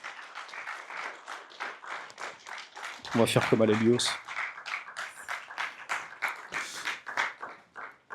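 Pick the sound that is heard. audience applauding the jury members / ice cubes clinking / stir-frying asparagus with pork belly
audience applauding the jury members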